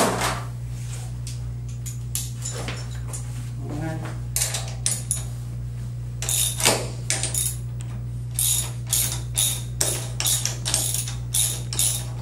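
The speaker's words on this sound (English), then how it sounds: "I've loosened all these nuts off the back of the bolts" Socket wrench loosening nuts off bolts with 7/16 tools, a run of quick ratcheting clicks and metallic clatter over a steady low hum, close by, with no talk.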